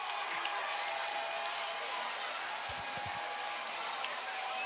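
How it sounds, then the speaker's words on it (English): A large near-sellout ice hockey crowd roars and cheers continuously, a dense wash of distant voices filling the arena, with a few dull thumps underneath. "This near sellout crowd, letting him hear it."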